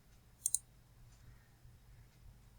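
Two quick, sharp computer mouse clicks sound close together early on, small and crisp against a quiet room background.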